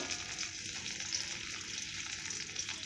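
Mango pieces frying lightly in mustard oil in a pan, a dense, steady close sizzle with soft stirring scrapes and no voices.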